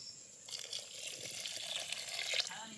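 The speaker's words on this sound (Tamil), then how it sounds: "தண்ணி ஊற்றிக்கலாம்." Water splashes into a pot of village-style crab rasam for 2.9 seconds, a steady, fairly close stream with a broad hiss and a few brief drips. No one talks.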